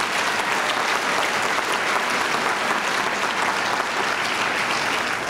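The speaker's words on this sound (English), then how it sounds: "Students and guests, give them one more round of applause." Students and guests at a 2013 college graduation ceremony give a loud, dense round of applause. Many hands clap in a steady roar that holds at full strength throughout without fading.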